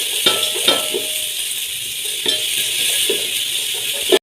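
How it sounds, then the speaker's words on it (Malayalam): Chopped onions stirred in a hot pan, giving a steady sizzle with a few soft scrapes and clinks of a spoon against the pan at intervals. "അതിലേക്ക് സവാളയാണ് ചേർത്ത് കൊടുക്കുന്നത്. എന്നിട്ട് നല്ലവണ്ണം ഇളക്കി കൊടുക്കുക."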